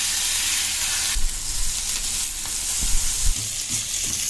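Pink perch fillets fry on their second side in a pan for banana-leaf fish fry, giving a continuous bright sizzle with a louder surge partway through and scattered low bumps and pops.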